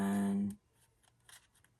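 Scissors make a few faint, quiet snips through a paper leaf shape in a craft project, following a brief loud tone at the start.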